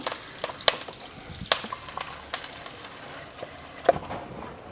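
Ground masala paste being stirred and poured into kurma gravy frying in a pan, a soft continuous sizzle with a few sharp clinks of a spoon against the vessel.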